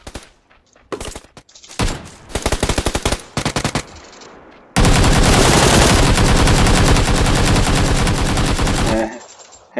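Gunfire in an online shooter video game: scattered bursts of shots, then a long, loud, continuous volley of rapid automatic fire.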